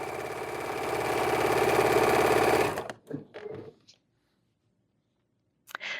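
A sewing machine runs steadily for a few seconds, stitching folded denim binding onto a throw quilt, then stops, followed by light handling clicks and a short scuffing sound near the end.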